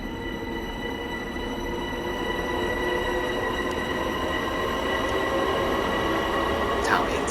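An M7 train in Train Sim World 2 pulls away with a steady rolling rumble and a whining traction hum that builds gradually, plus a brief squeal near the end.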